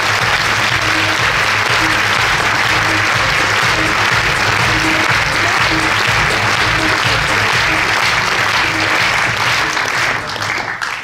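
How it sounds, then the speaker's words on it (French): Sustained, dense applause from a large audience at a French political evening event, loud and steady throughout for about eleven seconds with no speech over it. "Merci de faire un éclair d'applaudissements à M."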